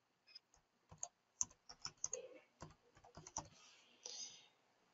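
Password being typed on a computer keyboard, a dozen or so sharp, close key clicks in an uneven rhythm over a quiet background.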